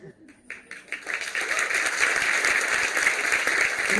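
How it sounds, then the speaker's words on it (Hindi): Audience applause at a Hindi spoken-word poetry performance, starting with a few scattered claps and swelling within about a second into steady, full clapping that holds to the end. "तालियां कम है या हिचकिचाहट ज्यादा है?"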